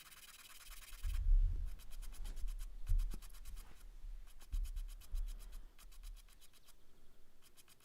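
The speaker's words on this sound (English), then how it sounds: "I could take some sandpaper and just sand off all the sharp edges." A metal pipe's sharp cut edges are rubbed with sandpaper in quick back-and-forth scratchy strokes, repeated in short bursts with pauses, close and fairly quiet.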